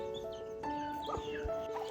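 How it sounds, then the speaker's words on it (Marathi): Chickens cluck softly in a short burst while being fed rice at a Konkan village house, heard faintly over a steady low hum. "हे बघा इकडे आजीची कोंबडी आले त्यांना भात घालतोय"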